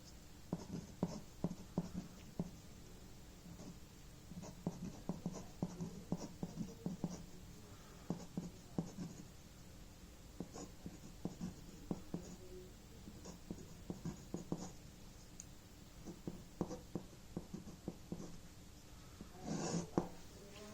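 Pen scratching on paper as someone writes by hand, working through probability equations; quiet, close strokes come in short irregular bursts with brief pauses between them.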